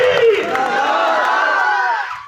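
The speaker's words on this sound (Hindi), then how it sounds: "ये ताज डेयरी वालों ने बहुत ताली बजाई है।" Crowd at a Pakistani political rally cheers and shouts loudly throughout, with a brief high whoop near the start. The roar holds steady, then fades at the end.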